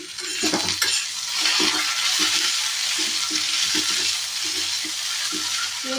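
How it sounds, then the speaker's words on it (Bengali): Salted fish fries in oil in a kitchen pan, a dense continuous sizzle running throughout with light repeated clinks of a utensil against the pan, close and unaccompanied by speech. "এদিকে আমি বসিয়ে দেখুন মাছটা ভাজতে দিয়ে দিয়েছি"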